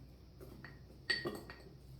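Spoonfuls of pickling spice drop into a glass jar, making a couple of faint, light clinks and a short rattle over a quiet background.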